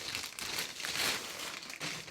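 Cardboard flap of a crochet book package being pulled open. A close, continuous crinkling and rustling of paper, heard alone.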